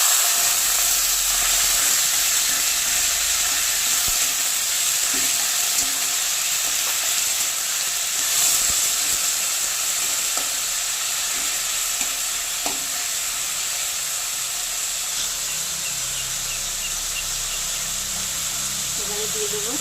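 Elephant foot yam stalks hit hot oil with lightly browned garlic, a loud, steady sizzle and hiss that continues throughout with occasional soft stirring knocks underneath.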